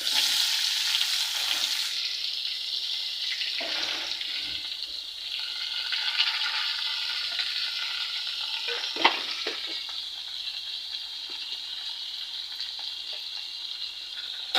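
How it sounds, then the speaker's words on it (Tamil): Sliced onions and curry leaves sautéing in hot oil in a pan, a loud steady sizzle close by, interrupted by occasional spoon scrapes and clanks as the mix is stirred, no talking. "இப்போ போட்டுட்டு நல்லா வதக்கி விட்டுக்கலாங்க"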